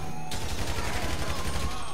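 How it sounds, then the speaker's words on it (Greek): Rapid, continuous gunfire during a GTA Online casino heist, a dense rattling fusillade that stays loud for the whole two seconds. "Ρε, άρχισε να πυροβολάς τώρα"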